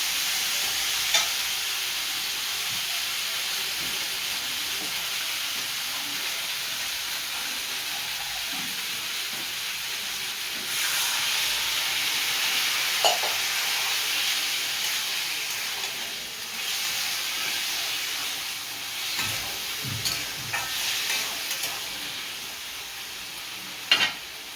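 Ridge gourd and potato pieces sautéing in a pan for a mixed-vegetable dal dish, a continuous close sizzle with soft scraping stirs and a few sharp clinks of the spatula near the end.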